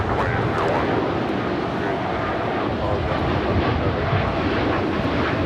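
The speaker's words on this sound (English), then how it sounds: "This is American Airlines Flight 27 taking off to Tokyo on the 787-8 Dreamliner." An American Airlines Boeing 787-8 Dreamliner takes off at LAX, its engines a loud, steady, broadband roar that holds unbroken throughout.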